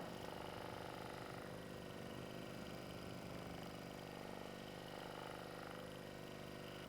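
A Thor percussion massage gun runs against the arm, working the biceps muscle, with a faint, continuous, even motor buzz and no voices.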